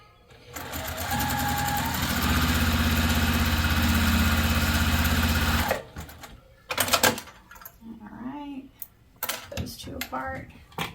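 A sewing machine stitches quilting fabric pieces together in a steady, close whirring run of about six seconds, then stops, followed by handling noises and light clatter of tools.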